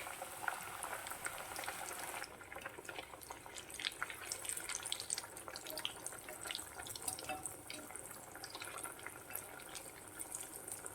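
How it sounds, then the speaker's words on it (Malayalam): Soya cutlets deep-frying in hot oil bubble and fizz in a soft, constant churn, quiet and steady throughout with faint spattering. "എണ്ണ ചൂടായി കഴിഞ്ഞപ്പോൾ കട്ട്ലേറ്റ് ഇട്ട് കൊടുത്തേ."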